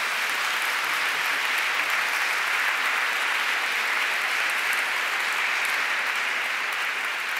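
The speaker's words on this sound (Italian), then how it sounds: "il vostro applauso mi riscalderà" Sustained applause from a lecture audience, a continuous even wash of many hands clapping at moderate level, unbroken and without voices.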